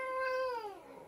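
A single cat's drawn-out, crying meow, loud and close, harmonic and falling in pitch at the end, alone with no talk.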